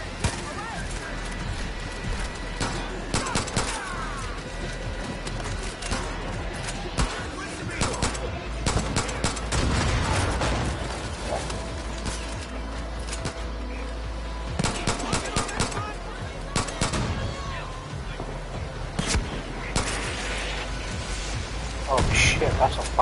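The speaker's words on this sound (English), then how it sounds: "Oh shit, that's a fucking sniper." Gunfire during a firefight in the video game Far Cry New Dawn, with sniper shots among dense, rapid bursts of loud, close firing across the clip, under excited speech.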